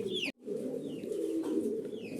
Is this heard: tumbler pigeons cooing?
yes